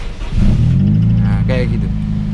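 A car engine with a weak, run-down battery cranking sluggishly on the starter, a steady low labored drone that swells briefly partway through, loud and close, with a voice talking over it.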